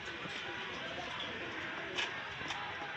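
Pigeons coo amid steady bustle at a Pakistani pigeon market in Gollamari, Khulna, with soft calls faint under broad crowd noise and two brief brighter bursts near the end.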